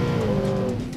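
A 1969 Ford Falcon XW idles steadily and up close, its engine giving a continuous low rumble with a sustained tone and no voices over it.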